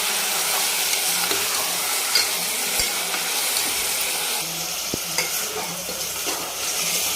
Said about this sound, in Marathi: एकदम असं परतून घ्यायचं आहे खमंग असं 5 मिनिट हे अशा पद्धतीनं